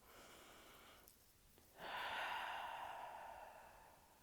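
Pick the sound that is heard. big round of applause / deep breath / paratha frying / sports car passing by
deep breath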